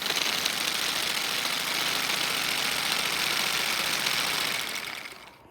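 A 4-cylinder radial engine runs steadily at a constant pitch, a dense loud buzzing drone that holds for several seconds before fading out at the end.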